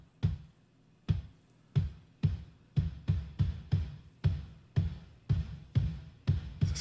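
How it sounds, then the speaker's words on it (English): Drum hits processed with a gated reverb effect from the MDrumEnhancer plugin, about a dozen punchy strikes with short, abruptly cut-off reverb tails, played alone in a steady, slightly uneven rhythm. "So this must be some kind of like combo of gate and reverb."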